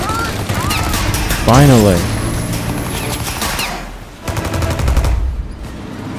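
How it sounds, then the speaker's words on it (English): Rapid gunfire aimed at a ship in the game Mafia: Definitive Edition, loud bursts of shots with a whistling, sweeping effect early on, then more firing after a short dip, while someone speaks over it. "I'm gonna shoot the top ship."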